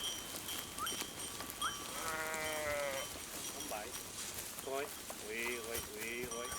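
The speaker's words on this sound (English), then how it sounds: "Arjen Dahlhuisen has his sheep where he can see them, and his dogs under control." A flock of sheep on a Dutch farm bleats in repeated wavering calls, several animals near and farther off, while someone talks over them in narration.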